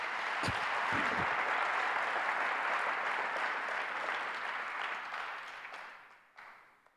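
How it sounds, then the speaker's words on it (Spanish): A church congregation claps for Jesus, a broad sustained applause at moderate distance that gradually fades away near the end. "Vamos, déle un fuerte aplauso a Jesús."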